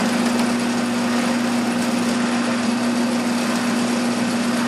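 A drill bores steadily into threaded pipe for a propane forge burner, giving a continuous loud, even motor whine with a strong steady hum and no pauses.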